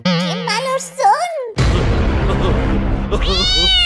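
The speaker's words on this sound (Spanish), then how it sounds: "¡Seguro que son los gatos de la vecina!" A cat meows in a few drawn-out, wavering cries, then a burst of loud noisy clatter, and another meow rises at the end, all close.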